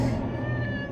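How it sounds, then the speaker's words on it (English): A cat meows in the Owl Lights video game, one brief, drawn-out cry heard within a loud, dense game soundtrack. "It's a cat."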